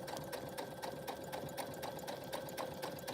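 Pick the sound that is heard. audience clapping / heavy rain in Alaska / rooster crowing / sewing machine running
sewing machine running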